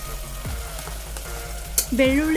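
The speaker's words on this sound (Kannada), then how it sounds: "ಇವಾಗ ಈರುಳ್ಳಿ ಚೆನ್ನಾಗಿ ಫ್ರೈ ಆಗಿದೆ ಅಂದಮೇಲೆ ಟೊಮೆಟೊ ಸೇರಿಸ್ತಾ ಇದ್ದೀನಿ" Chopped tomato and garlic going into a pan of fried onion, giving a steady close sizzle with a few stirring scrapes and a brief clatter near the end.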